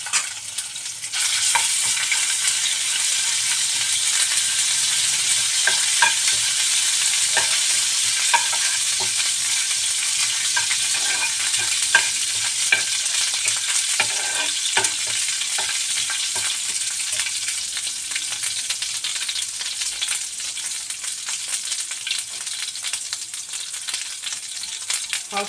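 Whole cumin seeds and garlic sizzle steadily in hot oil for a Hindi-style masala dal fry, a continuous close, loud frying hiss with occasional stirring clicks and no talking.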